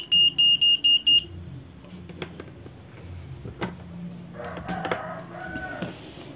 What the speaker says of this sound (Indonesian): multimeter kita arahkan ke buzzer, ya, untuk mencari